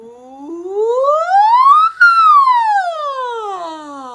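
A human voice imitates a siren during a vocal warm-up, sliding smoothly from its lowest note up to a high peak and back down again in one loud, continuous glide with nothing else behind it.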